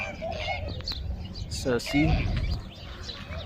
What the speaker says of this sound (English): and look at the birds, guys.